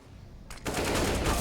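A burst of rapid AK and AWP gunfire from a Counter-Strike esports match kicks in suddenly after a quiet moment and holds as a dense, loud, continuous rattle.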